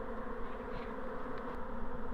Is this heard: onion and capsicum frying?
no